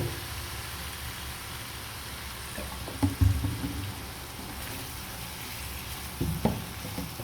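Chicken sausage frying with turmeric and dried chili powder gives a steady close sizzle, with a few louder spoon-against-pan clatters partway through.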